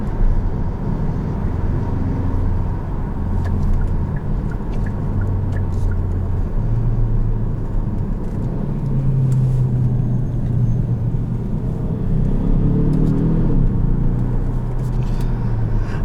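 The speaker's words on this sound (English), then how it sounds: "The sound that is in the cabin sounds just like the 6-cylinder." Inside the cabin of a Kia car with a four-cylinder engine, a steady low engine rumble and road drone continues evenly throughout, moderately loud, with no talking.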